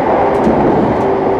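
A Scottish passenger train running on the Glasgow Queen Street via Falkirk High service to Longniddry, heard from inside as a loud, steady rolling rumble with a faint whine, continuous and close.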